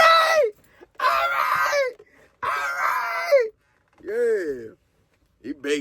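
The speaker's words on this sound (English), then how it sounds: "He's screaming out the op name." A man screams a rival's name again and again in harsh, strained bursts separated by short gaps, with wailing, crying-like cries toward the end.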